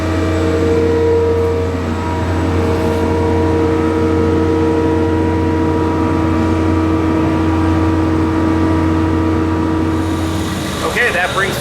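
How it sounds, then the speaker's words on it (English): Concrete trucks idling and churning at a country club construction site, a loud steady low engine drone with harmonic whine throughout, swelling near the end, under a person talking. "You can hear the concrete trucks behind us, so it's getting a little bit noisy."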